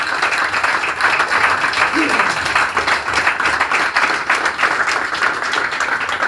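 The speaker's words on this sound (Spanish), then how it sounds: "Dame un fuerte aplauso hasta ahí, le damos un aplauso al Señor" A church congregation gives loud, sustained applause during a Spanish-language sermon, dense clapping filling the space evenly from start to finish with faint voices mixed in.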